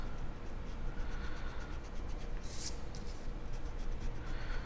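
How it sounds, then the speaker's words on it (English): A pencil drawing of an apple having its guidelines erased: a steady, soft rubbing and scratching on paper, close and quiet, with repeated short back-and-forth strokes and a brief louder scrub near the middle. "And then go ahead and erase those guidelines."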